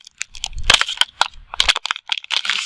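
A plastic water bottle is crushed by hand, giving repeated sharp crackling crunches in irregular bursts, close and fairly loud, with no talking.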